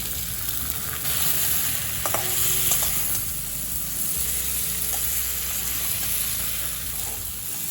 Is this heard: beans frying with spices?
yes